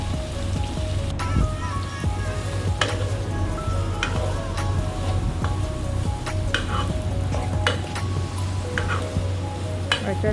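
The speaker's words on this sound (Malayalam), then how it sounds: "ഉള്ളി ആഡ് ചെയ്ത് ഇനി അതും നല്ലപോലെ വഴറ്റുക." Chopped onions sauté in hot oil for a chicken curry, giving a constant crackling sizzle like light rain, with occasional scraping taps of a spoon stirring against the pan.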